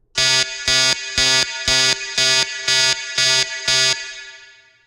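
A loud electronic alarm sounds eight evenly spaced, harsh buzzing beeps with short gaps between them, then rings out and fades; no voices are heard.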